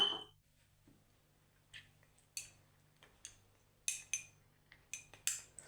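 A spoon taps and scrapes against a bowl while a face pack is mixed with unboiled milk, giving sharp, close clinks in an irregular rhythm with quiet gaps between them.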